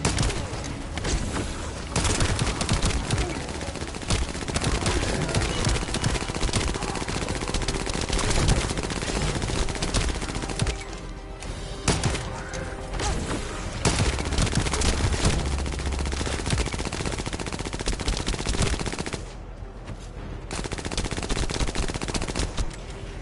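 Sustained automatic gunfire from The First Descendant shooter game rattles continuously at high loudness, with dense overlapping bursts and brief lulls near the middle and end.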